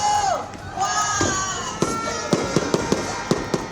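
A New Year's countdown fireworks display in BGC: a string of sharp, fairly close bangs and pops arriving in quick succession in the second half, over a cheering crowd with voices shouting throughout.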